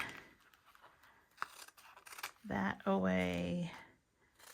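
Scissors snip away excess fabric and paper-backed applique on a flour sack tea towel, a few faint cuts under someone talking.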